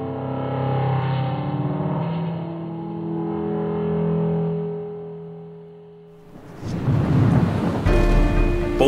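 A thunderstorm breaks in after several seconds of sustained, calm musical tones: a loud, broad rumble of thunder with rushing rain fills the final few seconds, close and heavy.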